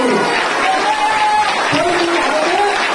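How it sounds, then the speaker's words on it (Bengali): A church congregation claps and cheers loudly, a dense wash of crowd applause with voices mixed in, steady and close. "জোরদার তালি বাজিয়ে বলুন না"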